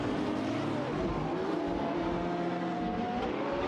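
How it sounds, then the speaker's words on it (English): A McLaren 675 LT and a Radical RXC racing head-to-head in a video game, their engines droning loudly and continuously with shifting pitch as they battle for position. "The McLaren 675 LT and Radical RXC are going head-to-head on the track."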